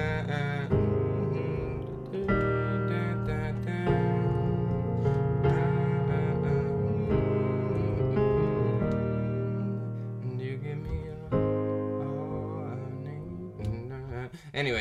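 Piano playing the pre-chorus chords of a song, sustained full chords changing every couple of seconds in a slow ballad rhythm, close and clear with no talking.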